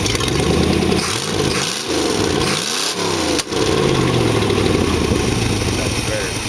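A 1962 Oldsmobile engine fitted in a 1914 Dodge Brothers rat rod roadster idles loud and close, rumbling steadily. It runs slightly rough, with a few dips and swells in revs early on.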